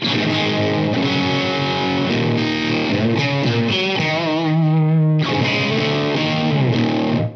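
Heavily distorted electric guitar through an overdriven Orange amplifier plays chords and a sustained note, gritty and loud throughout, with a brief pause before the riff resumes.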